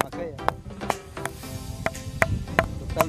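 A ringing stone, la piedra sonadora near Sensenti, Ocotepeque, is struck four times in quick succession, and each hit gives a sharp knock with a bright, sustained metallic ring. A voice speaks briefly before the strikes.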